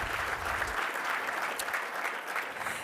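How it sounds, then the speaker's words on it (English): An audience gives a round of applause for a city council member at a mayor's address, with dense, sustained clapping from a large crowd and a low rumble fading early. "a big round of applause."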